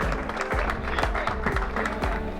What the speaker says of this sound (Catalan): Un aplaudiment per a ell.